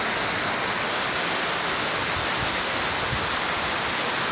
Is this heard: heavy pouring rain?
yes